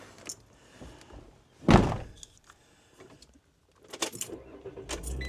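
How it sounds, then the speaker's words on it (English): A car door swings shut with one solid, close thunk, preceded by faint rustling and followed by small clicks and jangles inside the vehicle. "let's close this door"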